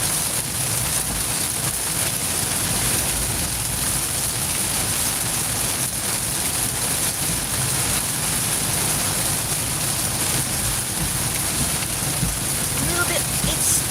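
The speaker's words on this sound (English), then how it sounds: "It's not a bad rain, it looks worse than it is. Or it sounds worse than it is." Steady rain patters continuously on surfaces, an even hiss of drops without pause.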